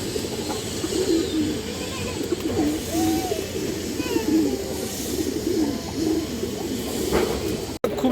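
Pigeons coo repeatedly in soft, rounded calls against a steady background hum, several birds overlapping at moderate distance, with a brief click near the end.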